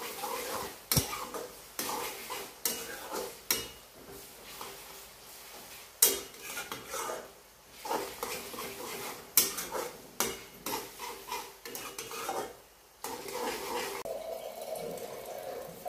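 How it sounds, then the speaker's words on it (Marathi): Chopped coriander being stirred into browned onions and egg bhurji in a pan, with a utensil scraping and knocking against the metal in uneven bursts and brief pauses, a faint sizzle underneath. "कोथिंबीर टाकून कोथिंबीर चांगली हलवून घ्यायची."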